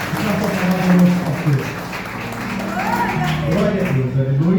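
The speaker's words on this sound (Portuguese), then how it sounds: "Aplauda o Senhor por essa palavra" A church congregation applauds, a broad wash of clapping and crowd noise that sits under voices and some tonal sound.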